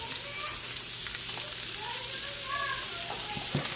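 Meat browning while it sautés in a Power Quick Pot, with a steady dense sizzle and light stirring all the way through, close and even, while someone talks over it.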